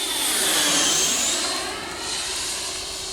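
A Taft Hobby Viper Jet V3 model jet with a 90mm electric ducted fan on a 6S battery makes a slow flyby. A loud, steady high-pitched whine with broadband rushing swells and eases as it passes close.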